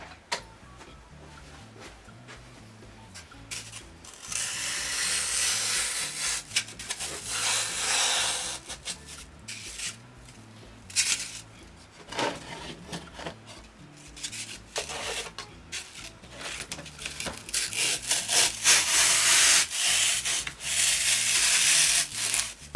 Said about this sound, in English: I'm going to take some of this dry styrofoam and stick it down in here, and I'm going to cut it down